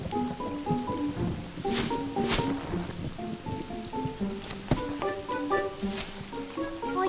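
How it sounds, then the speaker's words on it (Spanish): Rain in a cartoon patters steadily under a soft musical score of plucked, tonal notes, with a few sharper splashy hits and no speech. "¿En esta lluvia?"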